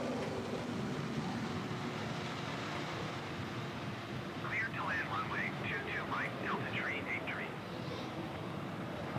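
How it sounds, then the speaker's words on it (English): A China Airlines Boeing 777-300 in Microsoft Flight Simulator 2020 roars under reverse thrust on landing at JFK, a steady broad engine rush throughout, with a voice talking softly over it partway through. "There's some reverse thrust."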